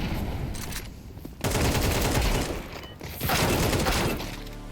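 An incendiary grenade in Counter-Strike 2 Wingman bursts into loud, continuous crackling fire noise with dense overlapping game sounds, close and sustained throughout, surging twice.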